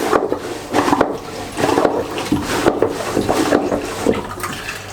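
Marine toilet pump aboard a 2020 Jeanneau Sun Odyssey 440 sailboat, drawing water in and out with rhythmic gushing, sloshing strokes repeating roughly every half second, close and fairly loud with no talk.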